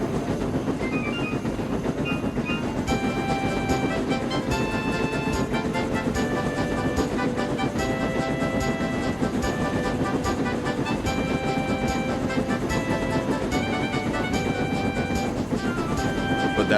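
A train runs steadily along the line with a continuous rumble and repeated rhythmic clicking of wheels over rail joints, loud and close throughout with no voices.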